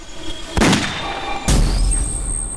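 Two loud gunshot-like booms in a crime drama scene, each a sharp crack followed by a lingering rumble, the second about a second after the first.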